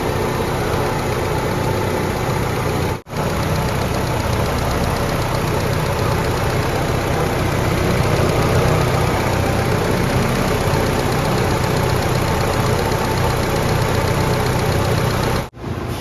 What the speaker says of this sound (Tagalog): Okay pa yung makina eh.